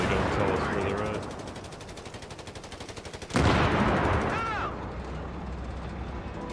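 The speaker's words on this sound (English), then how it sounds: "What a 50 cal heavy machine gun." A 50 cal heavy machine gun hammers out a long, fast, evenly spaced burst in a Company of Heroes 3 battle, then a sharp blast and continued gunfire follow as a voice speaks.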